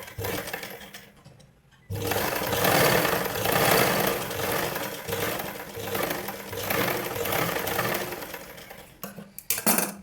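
A sewing machine runs steadily for several seconds, stitching along the edge of a blouse, with a short pause near the start and a brief break toward the end.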